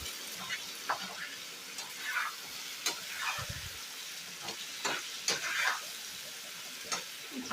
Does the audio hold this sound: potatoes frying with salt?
yes